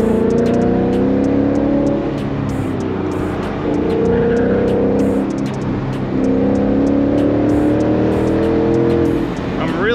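A Ford Mustang drives hard on the Tail of the Dragon mountain road, its engine droning and rising through gears, with steady rumble and occasional clicks over ten seconds.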